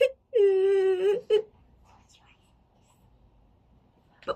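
A child cries in the distance with one long, drawn-out wailing cry and a brief sob after it, then near silence with faint background noise.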